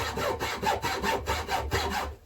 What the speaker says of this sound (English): proper junior hacksaw, because I don't have a bigger one.